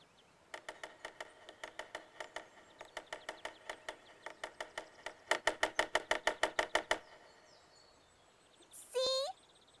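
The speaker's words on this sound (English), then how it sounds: "It's a woodpecker. He's looking for bugs for his dinner." Cartoon-style woodpecker pecking a tree in rapid bursts of sharp knocks, several runs of evenly spaced taps growing louder, followed by a brief rising whistle-like squeal at the end.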